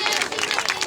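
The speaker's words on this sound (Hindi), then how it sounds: "ताली तो बजा दो।" Audience at a prayer meeting clapping hands together in a dense, continuous burst of applause, close and loud.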